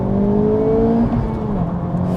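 Honda Civic Type R with a 2-litre turbocharged four-cylinder engine pulling hard, a steady loud drone whose pitch climbs smoothly, dips at a gear change, then rises again, close and continuous with no talk.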